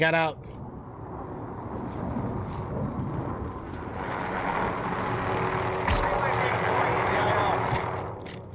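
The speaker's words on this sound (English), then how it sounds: "Careful, chopper above you guys." An enemy helicopter overhead in Call of Duty Warzone, a continuous rotor drone that swells in loudness over several seconds, heard with gameplay noise and brief voices underneath.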